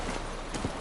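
Horse hooves clip-clop in The Witcher 3 video game, a brief run of steady hoofbeats over a muffled background bed.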